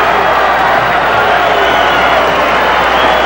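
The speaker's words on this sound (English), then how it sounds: "The crowd on its feet." A boxing crowd at a title fight cheers and applauds after the final round, a steady, loud, dense roar of clapping and shouting that holds unbroken throughout.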